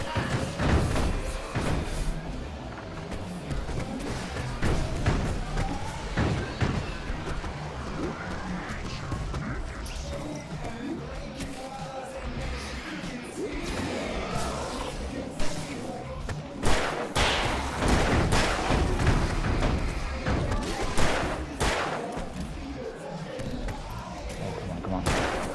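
Fireworks in the video game Alan Wake burst in dense, repeated booms and crackling thuds throughout, with a voice talking over them.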